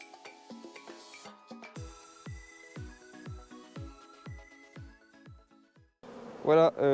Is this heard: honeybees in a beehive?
yes